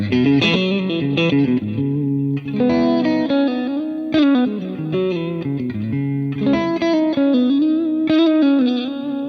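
Distorted electric guitar through a Tone X amp modeler pedal, playing a melodic riff with sustained notes and effects, loud and continuous without any voices.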